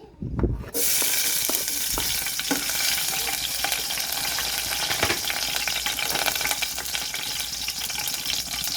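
Shrimp and ginger go into a little hot oil and burst into a loud, continuous sizzle that holds steady after a quiet start, with faint stirring scrapes and no speech.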